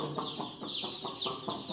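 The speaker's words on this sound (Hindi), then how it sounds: "बहुत ही प्यारे चूजे लग रहे" A brood of colorful chicks cheeps nearby, a steady stream of high, rapidly repeated peeps with faint clucking underneath.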